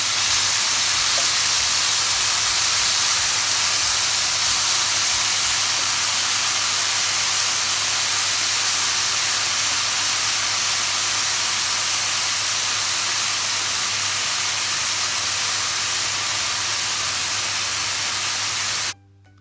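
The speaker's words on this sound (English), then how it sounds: "So here I'm going to fry my bacon." Bacon sizzling in a pot with hardly any oil, a steady, loud hiss of frying fat that runs without a break and cuts off at the end, with a low hum underneath.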